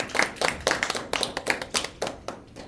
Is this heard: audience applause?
yes